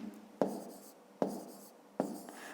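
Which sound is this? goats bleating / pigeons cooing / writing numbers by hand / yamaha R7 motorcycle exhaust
writing numbers by hand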